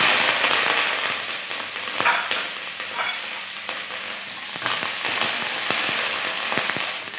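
Curry leaves fry in hot oil with mustard seeds and fenugreek for a homemade pineapple pickle. A close, steady sizzle carries sharp crackles scattered throughout, with no voices.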